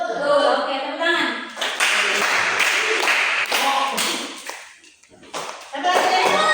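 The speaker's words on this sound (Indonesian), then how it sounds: "Oke, tepuk tangan." A classroom group claps hands in rhythmic bursts during a counting icebreaker, with voices mixed in over the clapping.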